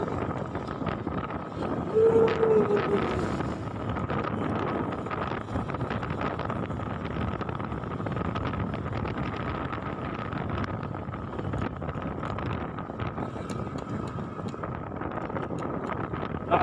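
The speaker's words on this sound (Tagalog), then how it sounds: "Lakas ang hangin dito kaya may windmill eh." Strong wind at the Pililla, Rizal windmill farm roars and buffets continuously against the microphone, a steady rushing noise with gusty fluctuations throughout.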